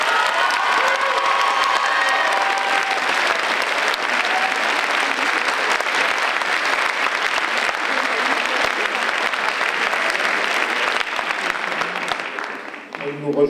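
An audience at a stage show applauds warmly, dense sustained clapping with some cheering and children's shouts mixed in, loud and close before tapering off at the end.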